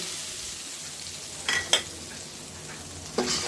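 Radish, potatoes and spices of turmeric, chili powder and cumin paste fry in oil, giving a steady soft sizzle with a few brief stirring scrapes near the middle and end.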